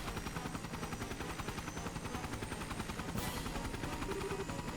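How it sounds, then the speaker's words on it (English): A helicopter flies in the video game Trails in the Sky SC, giving a steady rapid rotor chop that pulses evenly and fairly softly throughout, with no speech. "A helicopter?"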